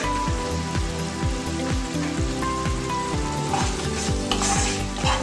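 Kashmiri chilli, garam masala and salt paste sautéing in a pan for bhola fish jhal, a steady close sizzling hiss running throughout with a rhythmic pulsing beat underneath and no talking.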